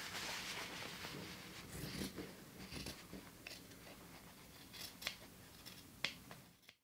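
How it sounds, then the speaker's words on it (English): Scissors snip through the fabric seam allowance of a sewn backpack, a quiet run of close crisp cuts with a few sharper clicks near the end and no talk. "once you've got that stitched then you can trim the seam allowance down to five millimeters"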